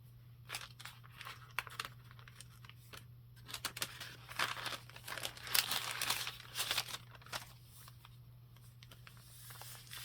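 Paper pages, journaling cards and a postcard in a gingham-themed junk journal are handled close up, producing soft rustles, crinkles and flicks in irregular bursts over a faint steady hum.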